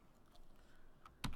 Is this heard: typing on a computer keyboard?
yes